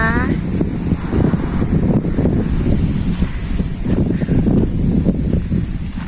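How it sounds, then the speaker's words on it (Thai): Steady wind buffeting the microphone outdoors in a garden, a continuous low rumble and rush with faint rustling, with a voice talking briefly at the start. "ลมพัดเย็นสบายมากเลยค่ะ อากาศสดชื่นมาก ยินเสียงลมกันไหมคะ"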